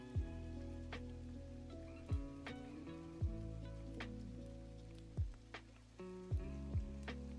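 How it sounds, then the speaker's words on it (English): Rain falls in a video game amid a tonal musical background, with soft patter and several sharp drop-like plinks at irregular intervals, fairly quiet and with no voices. "Hey, look, it's raining."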